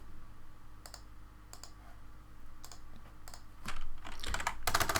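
Router configuration commands are typed on a computer keyboard: a series of crisp, spaced key clicks, then a faster burst of typing at the end, close and alone without speech.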